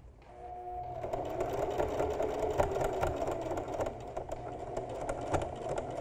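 A sewing machine stitching slowly through several thick layers of fabric at a tee-shirt shoulder seam, a close steady mechanical whir with rapid needle ticks that starts after a brief quiet moment.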